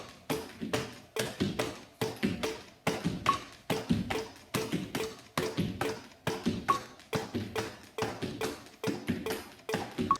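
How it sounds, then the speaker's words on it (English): Quick, steady taps of hands slapping hips, mixed with a jump rope clicking against the floor during double unders, in an even, continuous rhythm synced to a metronome. "the sound of my hands tapping my hips is perfectly in sync with the metronome"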